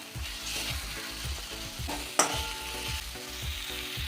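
Rohu fish frying in a spice paste with a little coriander powder, a steady sizzle with repeated scraping stirs of a spatula and a sharp clank partway, close and without talk.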